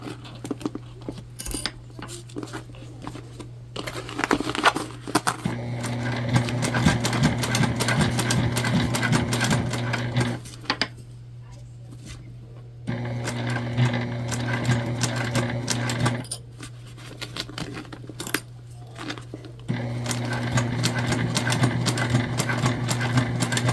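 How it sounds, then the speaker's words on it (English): A sewing machine top-stitches a Charmaine bucket bag in three steady runs of rapid mechanical stitching, separated by brief quiet pauses, close and alone. "For the most part, this should be a pretty simple top stitch."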